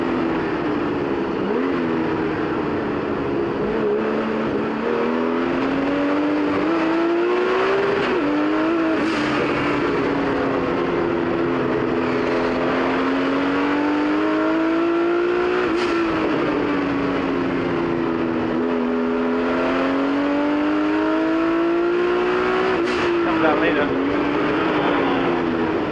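A 1979 Porsche 935 race car engine roars from inside the car on track, revving up and down through gears in long rising and falling sweeps, loud and continuous, with a commentator talking over it.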